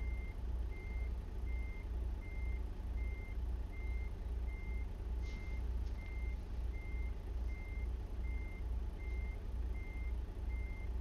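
Reversing alarm of a semi truck backing a log trailer toward a sawmill in American Truck Simulator, steady evenly spaced beeps over a low idling engine drone, alone with no talk.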